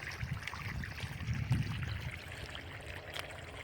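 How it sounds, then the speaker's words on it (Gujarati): Water gushing from a single-phase electric motor pump into a farm field, a soft, steady trickling and splashing with faint clicks, fairly quiet and continuous. "પાણી દેલી આપણે સિંગલ ફેસ મોટર હે મિત્રો એ પાણી સારું આવે"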